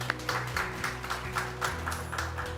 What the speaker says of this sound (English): Let's give all of the presenters a big round of applause.